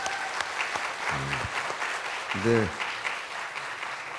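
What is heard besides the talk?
audience applause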